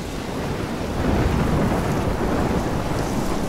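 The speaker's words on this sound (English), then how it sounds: "I'm trapped in a storm?" A thunderstorm in the video game Life is Strange, heard as a loud, dense rumbling roar of wind and rain that swells after the first second and holds steady, with no voices.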